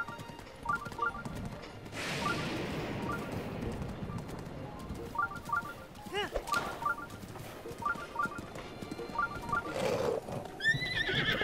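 Epona, a horse in the video game Zelda: Breath of the Wild, whinnies several times over steady clip-clopping hooves on a steep slope in the north of Hyrule Castle, with background game ambience and a voice talking at moments.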